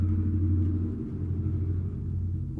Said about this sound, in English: Loud truck, right?